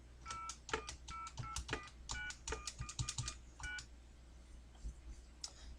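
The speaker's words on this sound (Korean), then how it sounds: "이 상태에서 다시 한번 전화를 걸어 보겠습니다" Touch-tone dialing on a phone while placing a call, a quick run of distinct DTMF beeps in uneven bursts, then a short pause before one or two final tones, close and clear with no talk.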